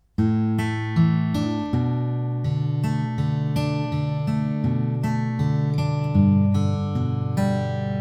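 An acoustic guitar fingerpicked note by note in a repeating intro pattern from a song, bright plucks over sustained bass notes, played clearly and close up.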